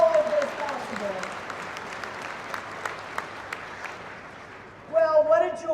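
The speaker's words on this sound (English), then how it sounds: "help me give them a round of applause for making all of this possible" An audience in Colorado applauds in a continuous wash of clapping that fades gradually, with a voice speaking at the start and again near the end.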